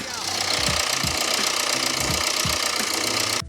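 An engine driving a generator runs close by with a heavy, rhythmic knocking pulse, its speed wavering up and down unevenly.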